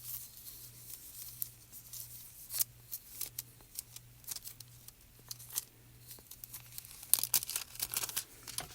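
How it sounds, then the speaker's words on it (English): A sheet of Cobalt Glimmer foil is handled for a letterpress wedding project, giving quiet, irregular crinkles and crisp rustles in bursts, louder toward the end, with a low steady hum underneath. "I'm going to grab my Cobalt Glimmer foil"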